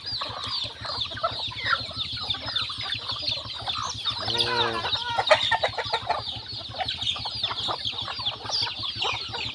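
Chickens cluck steadily at a farm during a morning feeding, a constant nearby chatter of many birds with a brief louder squawk midway and no talking.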